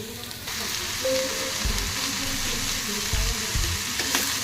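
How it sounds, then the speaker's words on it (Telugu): Fish frying in a pan for Hyderabadi fish curry, a steady loud close sizzle with occasional low thumps and stirring knocks throughout, no voices. "కాస్త ఫ్రై అవ్వనిద్దాం."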